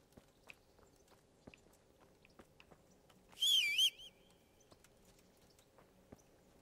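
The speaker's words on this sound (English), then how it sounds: "That's a loud ass whistle." A loud, warbling whistle sounds once, about half a second long, in the video game Kingdom Come: Deliverance, rising clearly above faint game ambience and scattered soft clicks.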